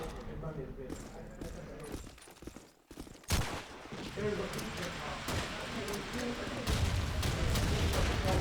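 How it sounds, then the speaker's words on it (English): Grenade and RPG blasts in a competitive shooter match, rumbling explosions and scattered gunfire building to a heavy boom near the middle, under a commentator's continuous speech. "Chiba finding the nade, RPG"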